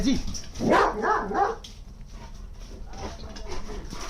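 A dog barks a few times close by, short yipping calls followed by quieter whimpering sounds, with a voice talking over part of it.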